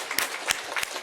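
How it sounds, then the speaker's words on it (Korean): A Sunday church congregation gives a brief round of applause, a few sharp, fairly close claps standing out over a soft background of scattered hands. "다시 한번 힘차게 격려의 박수하겠습니다."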